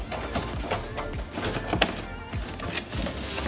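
A taped plant mail package from Fleur & Co being cut open up close, with a rapid run of crisp clicks, snaps and crinkly scraping from tape and packaging.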